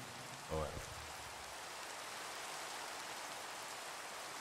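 Steady hiss of rain falls in the Minecraft video game world, a constant even wash throughout with a brief faint voice near the start.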